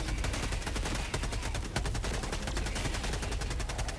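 Sustained automatic gunfire from a soldier's rifle in Helldivers 2, a rapid, even stream of loud close shots running the whole stretch without pause, over a dense noisy battle bed.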